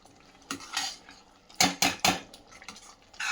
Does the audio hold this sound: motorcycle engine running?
no